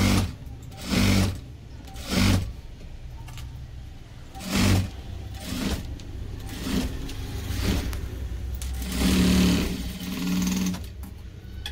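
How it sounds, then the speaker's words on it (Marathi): A sewing machine stitches a blouse seam in short bursts of whirring, each run a second or so long, separated by quieter pauses with a steady low background hum. "बॅक साइड वरून फ्रंट साइड कडे आपण व्यवस्थित असं स्टिच मारत मारत"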